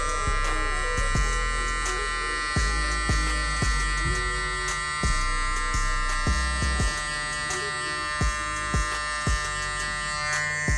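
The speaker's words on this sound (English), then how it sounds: "now I'm going to take my clipper, no guard, lever all the way open" An electric hair clipper with no guard and the lever fully open buzzes steadily up close while cutting hair, with repeated sharp clicks and taps as it moves through the hair.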